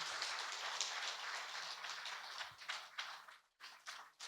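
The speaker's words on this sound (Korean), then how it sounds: "여러분 다시 한번 큰 박수 부탁드리겠습니다" An audience applauds at a plaque presentation ceremony honoring the month's independence activist. The applause is faint and dense, with a continuous wash of clapping that thins into scattered bursts before fading out.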